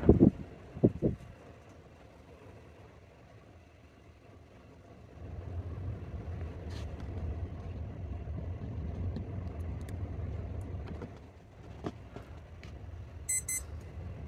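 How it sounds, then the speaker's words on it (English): A gust of wind roars across a 2 kW wind turbine in 50 mph conditions: a low, steady rumble rises midway, holds for several seconds, then eases off. The clip is otherwise quiet, with no talking. "bit of a gust"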